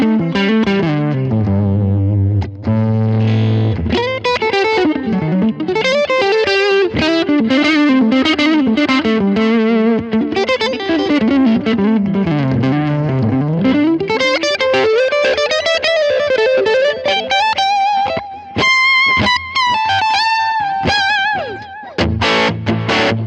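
Electric guitar on the neck pickup, played through a Line 6 Helix amp model with a driven, slightly broken-up tone, runs through a continuous melodic phrase of sustained notes and quick runs, with no talking.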